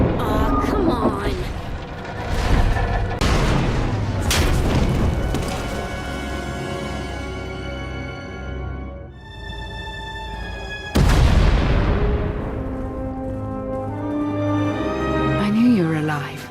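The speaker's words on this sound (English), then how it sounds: "We heard explosions." Explosions in a Star Wars game, Knights of the Eternal Throne, hit as heavy booms with long ringing decays, several loud blasts spread across the stretch mixed with tonal score, with voices heard in between.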